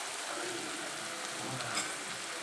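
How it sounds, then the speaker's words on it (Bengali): Finely chopped onions frying in a pan until browned, giving a steady, fairly quiet sizzle like light rain that runs evenly with no other sounds. "পেঁয়াজটাকে বেশ ভালো করে বাদামি করে ভেজে নিতে হবে।"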